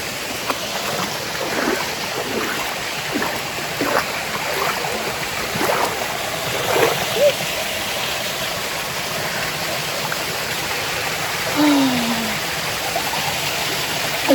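A Hawaiian waterfall and stream produce a steady, even rush of water throughout, with no clear breaks and no one talking.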